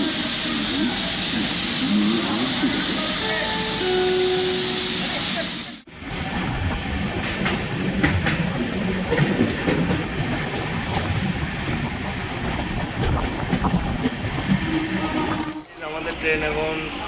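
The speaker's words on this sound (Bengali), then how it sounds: "আমাদের ট্রেন এখন 144 কিলোমিটার অতিক্রম করে তার লাস্ট জংশনে পৌঁছেছে।" Kurla Express with LHB coaches running on rails near a junction, a steady loud rumble and rattle of wheels throughout with brief cuts, and faint voices in the background.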